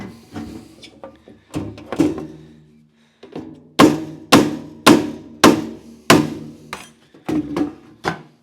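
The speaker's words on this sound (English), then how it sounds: "I'm going to tap that with a hammer a little bit" A hammer taps a tight-fitting sheet metal hobby box, a gardener's helper box: about a dozen sharp, ringing metallic strikes, a few scattered hits at first and then a steady run of louder, evenly spaced blows, close and without talk.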